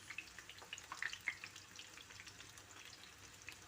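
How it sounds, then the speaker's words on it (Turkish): Quiet, soft sizzling and crackling of eggplant frying in a pan, with small irregular pops scattered throughout. "ve onları da hafiften kızartıyoruz."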